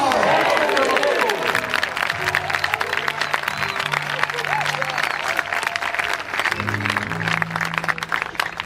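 A church congregation in Brazzaville applauds and acclaims, loud sustained clapping mixed with shouts and cheers, and a sustained musical tone running underneath.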